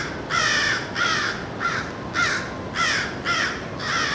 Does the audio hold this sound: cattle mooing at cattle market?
no